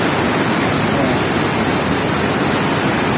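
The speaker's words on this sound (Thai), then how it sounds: "น้ำไหลแล้วพี่น้องน้ำไหลแล้วพ้นตัวประตูน้ำแล้ว" Water pours through an opened floodgate from a canal in a loud, steady, unbroken roar that stays close and constant throughout.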